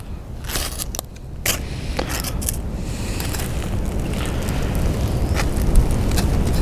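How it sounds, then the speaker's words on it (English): A fire steel struck onto birch bark tinder, with several sharp rasping scrapes in the first few seconds followed by a steady, rising crackling hiss close by. "Fire steel, that's going from a thumb push."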